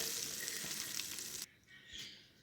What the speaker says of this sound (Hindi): तड़का हमने दे दिया।